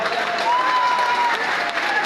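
A large crowd at a Meghwal community mass gathering applauds steadily and loudly, a dense continuous wash of clapping lasting the whole moment with no clear voices on top.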